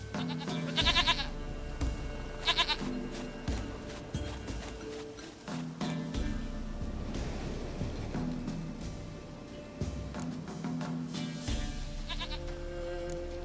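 Several loud, close goat bleats in The Witcher 3 come in repeated bursts over a background of game ambience and low music.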